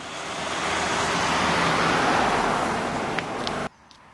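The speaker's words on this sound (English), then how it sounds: "It's noisy with traffic going past." Steady roar of road traffic passing the entrance to Denman Park on West Hill Drive, a continuous loud wash of vehicles that swells and then cuts off abruptly near the end.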